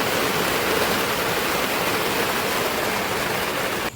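Rain falls steadily outside as a dense, even hiss. It stays loud and constant throughout, with no talking.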